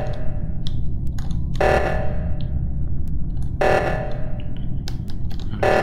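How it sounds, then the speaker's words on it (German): Sabotage alarm in the online multiplayer game Among Us, rising in loud repeated blaring bursts roughly every two seconds over a constant busy game-noise bed, with short electronic blips scattered between. "den Alarm ausschalten"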